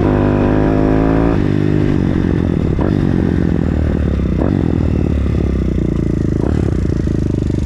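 A 160cc 4-valve YX motorcycle engine idling loud and close, stumbling slightly, a rough rumbling, noisy exhaust with uneven throbbing and a few faint rattles, no voices.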